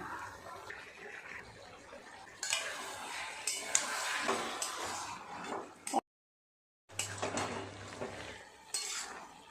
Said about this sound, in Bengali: ভালো করে ঘেটে দেব।